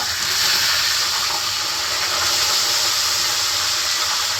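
Tilapia fries in a pan with a steady, loud sizzling hiss that stays even throughout, close by with no talking.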